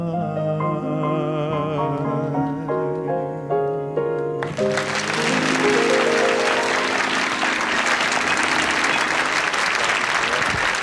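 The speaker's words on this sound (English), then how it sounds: "Listen to the applause for those two folks here." Studio audience applause on a 1975 Lawrence Welk television show, breaking out as a sustained orchestral chord fades and then swelling into loud, dense clapping that carries on steadily to the end.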